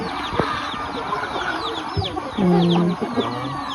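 Chickens cluck and squawk nearby amid a busy outdoor chorus of chirping birds, with one louder, drawn-out hen call in the middle.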